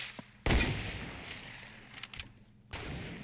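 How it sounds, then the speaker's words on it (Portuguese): Gunfire in the Fortnite video game: a sharp burst of shots at the start, a few scattered distant pops, then another volley near the end, fairly quiet overall. "os caras tá atirando a gente agora"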